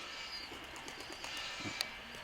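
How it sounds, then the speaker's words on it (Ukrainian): Soft, low cooing of pigeons nearby, a few brief murmuring calls over a quiet outdoor hum with a faint chirp. "Парочка голубів тут ходить ще, вигулюється, а той літає."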